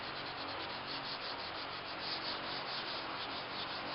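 Hand sanding on a Knight Rider car bumper makes a steady, continuous abrasive rasp in quick repeated strokes, close and even throughout with no voices.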